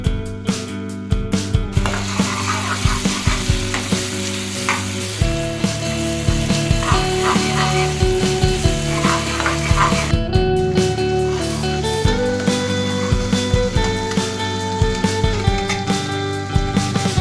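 Sambar tempering sizzles in a pan on an induction cooktop while idlis steam nearby, a loud continuous frying hiss with rhythmic clicks and clatter throughout and a tonal hum running underneath.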